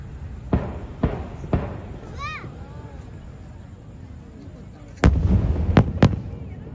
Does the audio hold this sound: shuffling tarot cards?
no